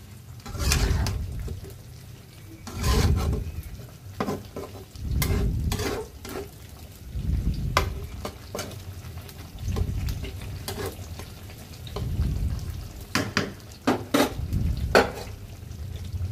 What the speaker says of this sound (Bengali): একটু পরপর ঢাকনা উঠিয়ে নেড়ে চেড়ে দিব।